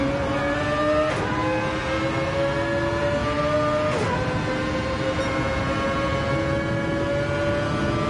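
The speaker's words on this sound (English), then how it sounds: "Just as we were about to listen to this beautiful sound of the Mazda" A Mazda race car engine in Gran Turismo 7 at Laguna Seca whines at high revs with a few sharp gear shifts, its pitch rising and dropping steadily throughout.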